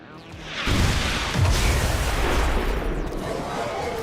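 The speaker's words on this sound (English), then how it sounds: "That's already 2 explosions in one. One from the pinions and one from the car." A car and Pinions blow up in the strategy game XCOM 2, a deep booming explosion that swells after a short pause and rumbles on heavily for several seconds, loud and close.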